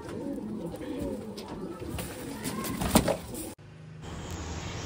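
Fancy pigeons coo softly amid background rustling and a brief loud bump while being packed for shipment in Thrissur, Kerala, followed by a quieter, muffled stretch.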